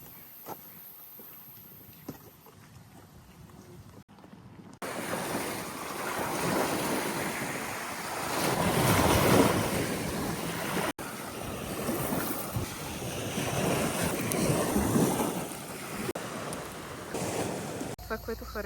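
Sea surf rolls onto a beach in Greece, a broad steady wash of waves swelling and receding, mixed with heavy wind buffeting the microphone.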